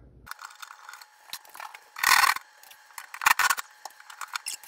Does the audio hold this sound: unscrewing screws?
yes